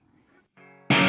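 An electric guitar plays through a Marshall MG100HCFX amp with overdrive engaged. A faint low note gives way to a sustained ringing tone, then a sudden loud, harsh distorted strum hits near the end of the very short burst.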